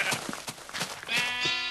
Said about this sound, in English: The sheep are continuing to multiply